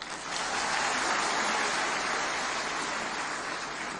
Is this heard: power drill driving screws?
no